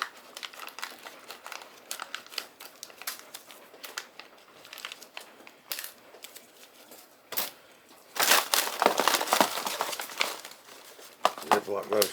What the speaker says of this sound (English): I'm going to put 2 300cc O2 absorbers in each bag.